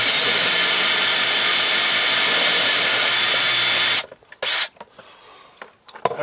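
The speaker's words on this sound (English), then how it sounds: "But let's drill." A power drill bores steadily through an RV roof for about four seconds, loud and close, then cuts off, leaving a couple of short bursts and faint handling noises.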